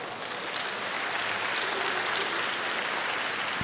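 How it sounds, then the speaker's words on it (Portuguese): Steady applause from a church congregation fills the room, a dense, even wash of clapping heard at moderate distance with no talk over it. "Pode dar uma salva de palmas?"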